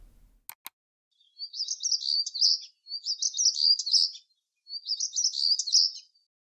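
Stonechat call from a bird sound simulator: three sustained bursts of rapid, scratchy twittering song, each lasting about a second, separated by short gaps, after two soft clicks at the start.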